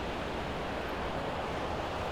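Rushing river rapids in the tailwaters below a short whitewater chute: a steady, dense broadband roar of churning water, close and continuous with no voices.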